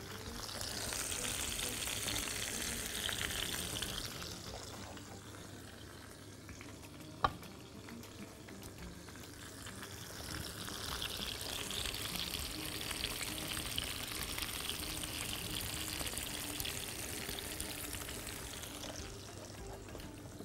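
Potatoes fry in a hot pan with a steady, moderately loud sizzle, easing in the middle and swelling again, with one brief sharp clink partway through.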